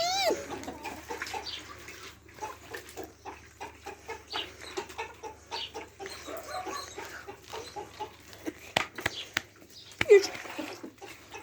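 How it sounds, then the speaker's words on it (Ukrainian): Chicks peep and cheep in a lively cluster of short, repeated calls, mixed with clucking and occasional louder knocks, while a voice speaks nearby. "Тату, тату, тату курчата"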